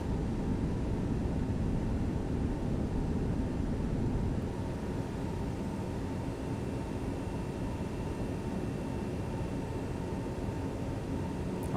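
Airliner engines climbing after takeoff in a flight simulator, Spirit Airlines flight from Orlando to Fort Lauderdale: a steady, loud broadband roar with a low rumble that eases slightly partway through, continuous and without talk.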